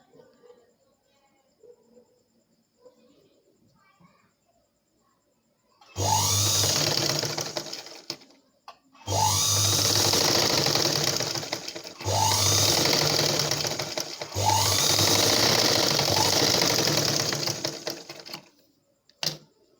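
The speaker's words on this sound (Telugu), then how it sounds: "ఈ విధంగా 2 టైమ్స్ స్టిచ్చింగ్ చేసుకోవాలండి షేప్ దగ్గర." A sewing machine stitches darts in a blouse, running in four loud, steady bursts of several seconds each, separated by short pauses, with no other sound in between.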